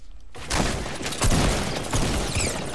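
Dense, continuous gunfire in a squad battle royale video game, loud bursts and booms packed together with almost no gaps after a brief quiet start.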